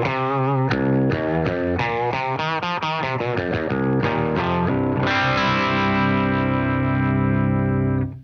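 Electric guitar run through a compressor pedal into an amp, a loud run of picked notes with a driven, chorused tone that ends on a long sustained ringing chord, played alone.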